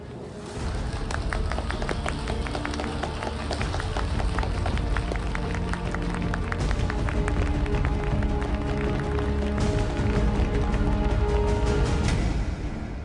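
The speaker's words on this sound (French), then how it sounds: "s'il vous plaît, applaudissements pour notre reine" Crowd applause for the queen, a dense continuous patter of many hands clapping that stays steady and loud for the whole stretch, with tonal music sounding underneath.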